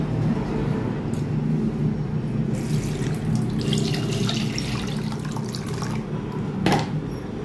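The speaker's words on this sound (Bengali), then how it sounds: "হয়ে গেছে, আর আমি ছেঁকে নেবো এটা" Roasted mango pulp drink, pulp mashed into water with a spoon, strained by hand: a steady wet trickle and splash of liquid pouring through a strainer, close and moderately loud, with a brief sharper splash near the end.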